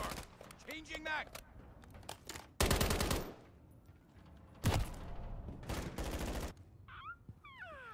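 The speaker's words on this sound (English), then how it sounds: "he just ate a 50 cal to the face" Bursts of rapid .50 caliber machine gun fire from a Call of Duty game crackle in two loud volleys, with voices talking over the gameplay in between.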